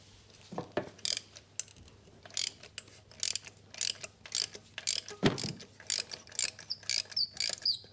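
Ratcheting clicks from a 5/8 spark plug socket on an extension bar working the plugs of a 2012 Kia Picanto 1.2 petrol, short bursts of close metallic clicking with pauses between strokes.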